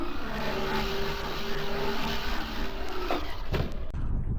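A Traxxas Jato RC car motor ripping during a backflip run, a loud high-pitched whining motor held steady for a few seconds before a sudden clatter and cut-off at the end.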